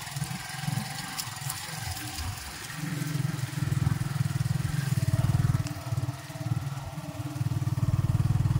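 A motorcycle engine runs on a farm path in Bataraza, Palawan, a low throbbing idle that swells and dips in revving surges, moderately close, with faint background noise and no clear speech.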